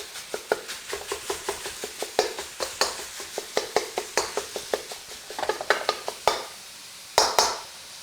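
Beef browns in a hot pan for glass noodles and beef (Ants Climbing a Tree), with a steady sizzle broken by repeated sharp scrapes and clacks of a utensil stirring against the pan.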